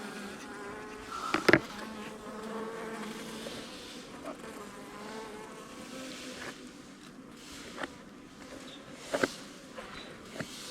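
A few honey bees buzz faintly inside a beehive on a mild November day, a thin, wavering drone with occasional louder close passes and soft handling knocks.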